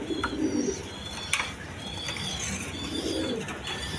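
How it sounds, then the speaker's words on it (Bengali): A pair of Bombay pigeons cooing softly at close range, low repeated coos over a steady background hum, with faint chirps and no talk. "এখানে এক পেয়ার বোম্বাই কবুতর আছে"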